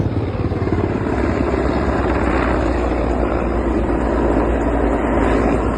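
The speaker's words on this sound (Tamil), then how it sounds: "ஹெலிகாப்டர்னா நெம்பா தலைக்கு மேலே போகிற மாதிரி போகுது" Helicopter passing over a farm, a loud continuous rotor and engine roar with a rapid low chopping pulse that stays steady and close throughout, no talk.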